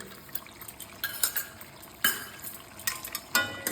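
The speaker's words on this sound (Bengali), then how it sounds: "ভালোভাবে মিশিয়ে নিচ্ছি" Chicken with ginger garlic paste stirred in a pan, a soft sizzle broken by repeated sharp scrapes and clinks of a spoon against metal at an uneven pace.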